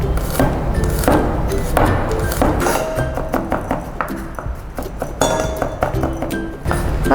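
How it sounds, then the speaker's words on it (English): A knife chops garlic on a cutting board in irregular bursts of sharp taps, with occasional light clinks of utensils, close and fairly loud. "first we chop the garlic first"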